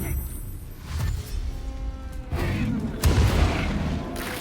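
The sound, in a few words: fireball explosion in video game Baldur's Gate 3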